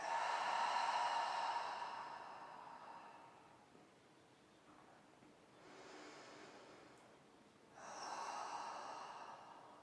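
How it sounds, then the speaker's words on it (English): A long, full exhale out through the mouth during a yoga session for the hips, a soft breathy rush near and fairly loud at first, followed by two quieter breaths a few seconds apart, with no talk. "Full exhales out through the mouth."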